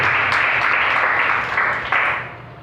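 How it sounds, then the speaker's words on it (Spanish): A church congregation applauds for God during a sermon, with a dense burst of clapping from many hands that fades slightly and then swells again briefly, at a moderate level and without talk. "¿Cuánto le damos un aplauso a Dios?"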